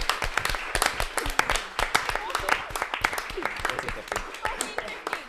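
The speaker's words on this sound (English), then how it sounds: "One more round of applause." Scattered, uneven clapping from a small crowd at a student council election results night, sharp individual claps close by with talking mixed in.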